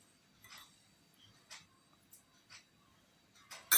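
Salad is stirred in a bowl with a few light, separate clinks and taps at intervals, quiet and close, ending in a sharper louder clatter.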